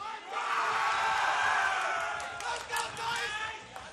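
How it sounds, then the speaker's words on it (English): Crowd at a fighting game tournament roaring and cheering, a loud sustained swell of shouts that dips, then surges again with scattered whoops and yells. "Listen to the crowd."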